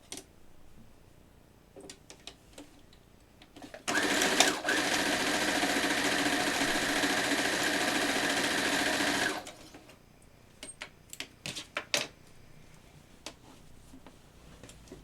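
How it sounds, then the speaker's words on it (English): Sewing machine stitching rows of a T-shirt quilt together, with a steady mechanical whir running for several seconds between scattered clicks and handling taps before and after. "So let's sew A and B together."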